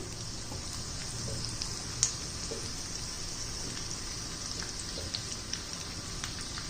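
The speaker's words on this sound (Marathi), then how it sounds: "चांगला तांबूस होईपर्यंत छान असं मी लसणाचा अर्क उतरतो" Crushed garlic, mustard seeds and cumin frying in hot oil for a mung dal tadka, giving a faint, steady sizzle and crackle with a few small pops throughout, no voices.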